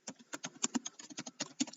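Quick, irregular keystrokes on a computer keyboard tap close by in a dry, steady patter, about a dozen clicks alone with no voices.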